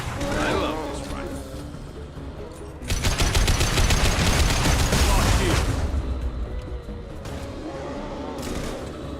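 Rapid automatic gunfire rattles in the Mass Effect 2 video game, a dense burst of shots following a quieter stretch, then trailing off into scattered reports and mechanical clatter.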